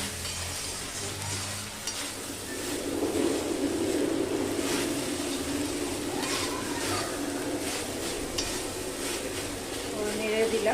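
Tomato and brinjal bharta stirred in a pan, a steady soft sizzle with scraping stir strokes repeating through the whole stretch, moderately close and without talk.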